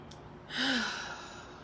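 A single deep breath, drawn in and let out, swelling briefly and then fading, soft and close in a quiet room.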